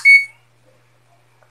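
A multimeter's continuity buzzer gives a single short, high electronic beep sharply at the start, followed by near silence.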